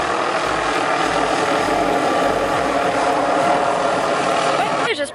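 A helicopter over a mountain in Hawaii keeps up a dense, loud, continuous rotor roar throughout, with a brief voice at the very end.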